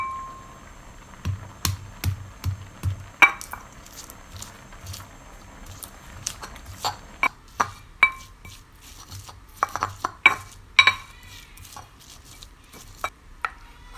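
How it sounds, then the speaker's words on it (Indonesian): Shallots, garlic, candlenuts and red chili crushed in a stone mortar in a home kitchen, giving repeated thuds and scraping knocks with sharp clinks, moderate and close, with no talking. "Jadi aku mau ngulek bawang merah, bawang putih, kemiri,"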